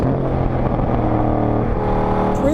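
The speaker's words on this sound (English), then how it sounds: "We are generating some G-force with the Camaro in all directions." A 2014 Chevrolet Camaro Z28 on 305-size tires pulls hard under acceleration while cornering, its engine note a loud, steady, continuous roar with a rising pitch near the end.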